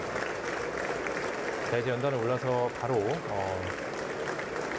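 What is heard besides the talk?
applause for Korean president in US Congress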